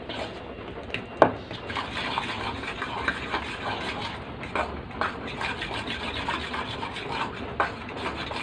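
Ingredients being stirred and mixed by hand with coconut milk in a bowl, a steady scraping and rubbing with occasional sharp utensil knocks against the bowl, close and continuous with no talk.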